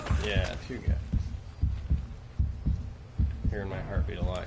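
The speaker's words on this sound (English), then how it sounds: "Hearing my heartbeat a lot here." Heartbeat sound effect in the video game Uncharted: Drake's Fortune, low thumping pulses repeating steadily about every 0.8 seconds, with voices talking over the start and end.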